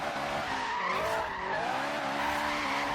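An Acura Integra, converted to rear-wheel drive, drifts in Forza Horizon 3 with sustained, loud tire squeal over the steady roar of its engine, unbroken for the full few seconds.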